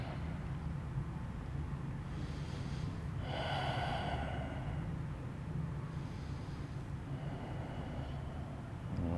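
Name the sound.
breathing during yoga twist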